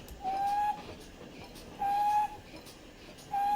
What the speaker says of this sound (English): Just a brake whistle.